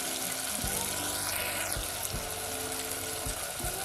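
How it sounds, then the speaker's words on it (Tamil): Water poured into a pot of radish sambar during cooking, a steady broadband rush with soft low thuds, continuous and close throughout. "கொஞ்சமாக தண்ணி சேர்த்து"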